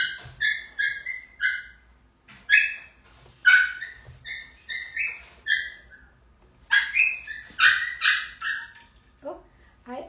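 Puppies at play yip and bark in rapid high-pitched bursts, a quick run of repeated barks with brief pauses, fairly close and clear with a low background hum.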